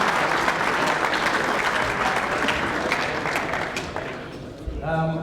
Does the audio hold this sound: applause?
yes